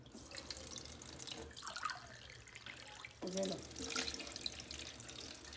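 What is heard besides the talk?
water running from a tap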